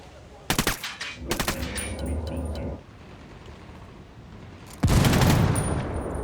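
Gunfire in the video game Ghost Recon Wildlands: two quick bursts of automatic fire early on, then a louder, sustained stretch of shooting near the end, all close and prominent.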